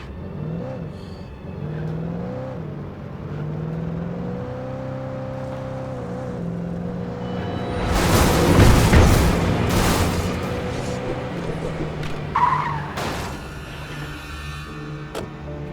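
Car engine droning and whirring in Alan Wake Remastered, already battered from a bad ramp jump, with a loud crashing, skidding burst in the middle before the engine hum settles back; no talk.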